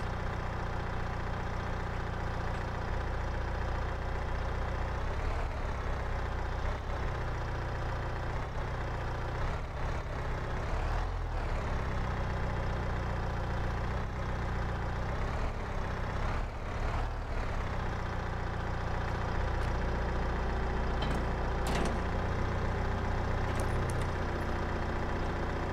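A tractor engine idles in the video game Farming Simulator 22, a steady low droning hum held for the whole stretch with slight shifts in pitch and no talking.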